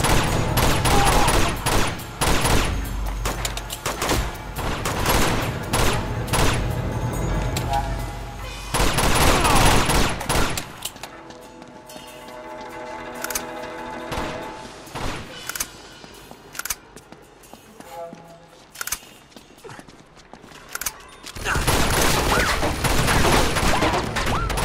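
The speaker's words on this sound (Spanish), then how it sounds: "Hay una ametralladora por ahí." Rapid machine gun bursts and overlapping gunfire from the video game Uncharted 2 crackle loudly in dense volleys, briefly easing in the middle before heavy shooting resumes, with game voices occasionally audible underneath.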